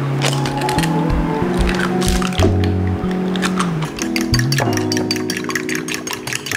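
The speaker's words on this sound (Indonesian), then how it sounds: "kita aduk telurnya" Eggs whisked in a bowl for a tomato egg dish, the utensil making rapid, wet squishing taps and light clinks against the bowl throughout, under steady background music.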